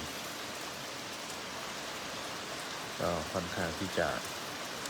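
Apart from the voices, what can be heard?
rain falling at a Buddhist temple in London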